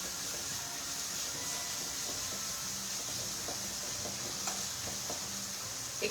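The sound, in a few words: stirring food frying in a pan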